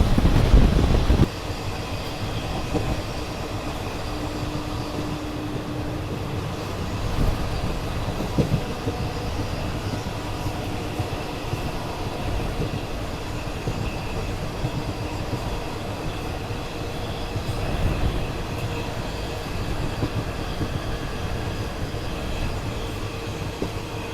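The Karnavati Express running on rails, a steady loud rumble of wheels and carriages rolling along the line with occasional rattles and clatter throughout.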